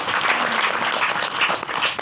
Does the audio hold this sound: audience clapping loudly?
yes